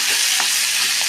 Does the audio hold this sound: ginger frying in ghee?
yes